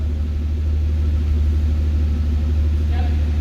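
A 2005 Mercedes SL65 with 97k km sits idling high during small maintenance, a loud steady low rumble of the engine racing with a brief faint tone near the end.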